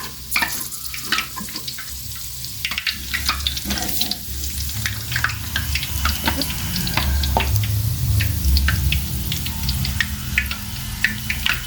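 Homemade tapioca snacks frying in a pan of oil while being turned, a continuous close hiss of bubbling oil with scattered crackles and light scraping, growing fuller toward the end, with no talking.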